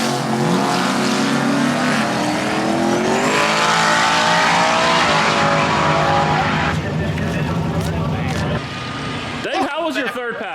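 Single turbo Coyote-powered S550 Mustang launching on a drag strip test pass, a loud sustained engine roar with rising revs and tire noise, fading near the end as voices come in.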